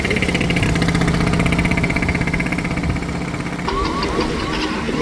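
A small three-wheeler auto-rickshaw engine cranks and sputters with a loud rattling, knocking chug that continues throughout, then its tone shifts near the end, with water in the silencer.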